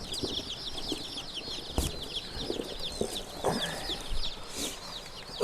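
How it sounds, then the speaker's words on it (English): Baby chicks cheep in a shrill, busy chorus of rapid peeps, close and fairly loud, with a few soft thumps and rustles underneath. "Baby chicks. Baby chicks."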